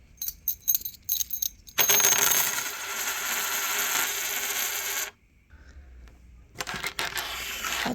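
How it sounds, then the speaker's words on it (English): Coins shaken and thrown by hand for an I Ching reading: a few light metallic jingles, then a sustained close rattle for several seconds, and a softer clink near the end, with no talking. "I will be pausing the video while I throw the coins"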